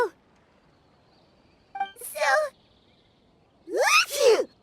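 Paimon, a character in the video game Genshin Impact, gives a quick high gasp followed by two separate sneezes, each close and sharp with quiet pauses in between.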